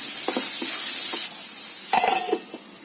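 Potatoes fry gently in a pan on a low flame, a steady close sizzle broken by several short scraping stirs and a brief clink of the utensil against the pan; no voices.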